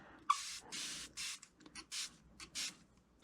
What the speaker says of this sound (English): Spray it down, and we'll let that sit a minute or two